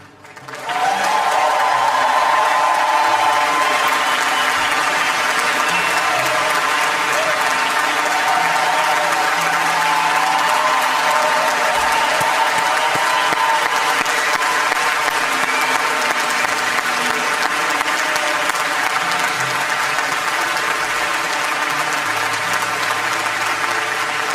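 Sustained applause from a graduation ceremony audience as summa cum laude students are honoured, a loud, even wash of many hands clapping that holds steady throughout with no talking over it.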